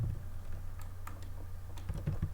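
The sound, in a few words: typing on a computer keyboard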